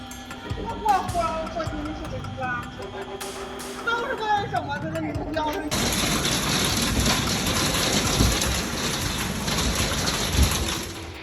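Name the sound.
sudden heavy rain downpour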